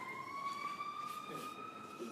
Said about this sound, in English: fire trucks and ambulances, I'm sure